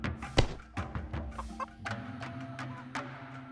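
A chicken in the UG VR video game clucks in a string of short, close calls, some louder bursts among softer chatter, with no talking.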